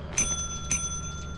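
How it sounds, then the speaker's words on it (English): A bell rung twice in the video game Lethal Company, two bright metallic dings about half a second apart, each with a short ringing decay over a low background hum. "I can't even ring the bell."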